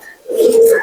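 A pigeon kept in a home loft gives a single close, fairly loud coo of under a second that swells and holds steady before easing off.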